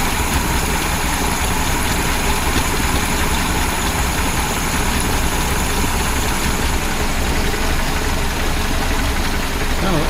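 A 1976 BMW 2002 engine idles steadily after carburetor tuning, a loud, even, continuous rumble close by with a slight knock, with faint voices in the background.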